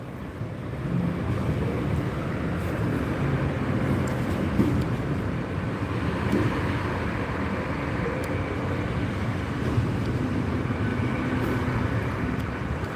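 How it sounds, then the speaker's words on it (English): A Class 800 train rumbles steadily past, a loud broadband roar of wheels and engine that holds for the whole stretch without a break. "may be the last train that will be seen in this video instead of the other Class 800"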